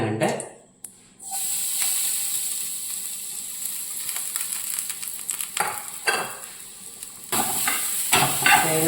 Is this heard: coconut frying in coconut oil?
yes